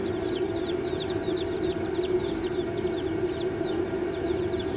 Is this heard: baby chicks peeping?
yes